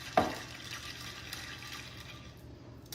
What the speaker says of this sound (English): That is nice and shaken now. Let us pour it in our glass.